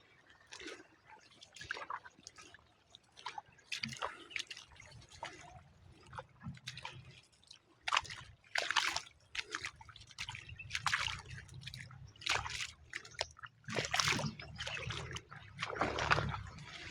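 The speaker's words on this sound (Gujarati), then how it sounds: "આપણે બોર ચાલુ કરી ને પાણી ચડાવી દીધું ધોરીએ" Borewell water flows into a field channel on a farm, close splashing and trickling in irregular bursts and drips, quiet between surges.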